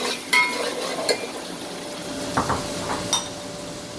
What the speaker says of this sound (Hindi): प्याज को हल्का सा फ्राई कर लेंगे